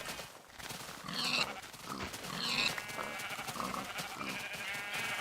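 Sheep in the video game Minecraft bleat several times, short wavering baas scattered over a noisy background, each call distinct and moderately loud.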